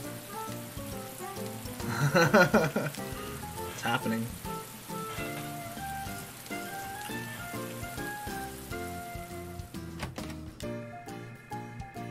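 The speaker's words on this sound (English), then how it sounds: "It's raining though, what the hell?" Rain pours down in Atelier Ryza 2, a steady hiss spread under game music and chimes, with a person briefly talking over it.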